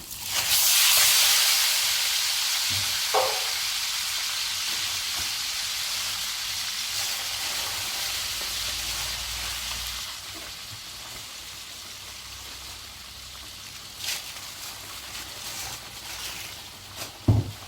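Minced meat sizzles and hisses loudly in a hot pan, the frying settling to a steady crackle, with occasional clinks of a utensil stirring.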